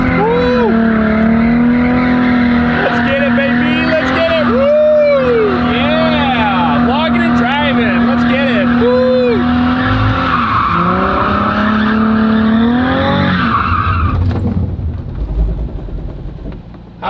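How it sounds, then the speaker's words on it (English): A car on a Dynojet dyno spins its tires to heat them before a run, producing a loud, sustained engine roar and tire squeal with wavering pitch that cuts off near the end, while voices can be heard. "I think I need to heat the tires up before we go on the dyno."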